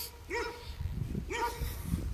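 Small dogs barking outdoors on a village street, two sharp bark bursts about a second apart, fairly close, with a whimpering tail after each.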